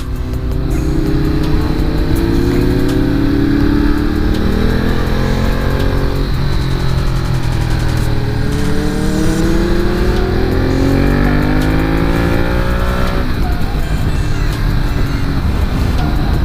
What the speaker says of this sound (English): there is no shortage of grunt when you open the throttle up